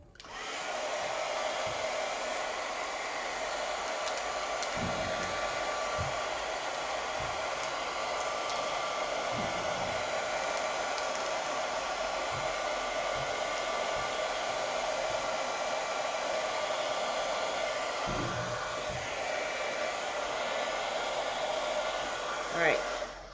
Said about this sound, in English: you want to get your heat gun and you want to go ahead and heat this up just like you're doing a tumbler